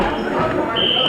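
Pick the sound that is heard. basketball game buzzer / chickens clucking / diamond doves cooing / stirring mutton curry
basketball game buzzer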